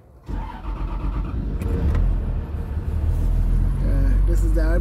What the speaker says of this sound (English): So now I'll start the machine.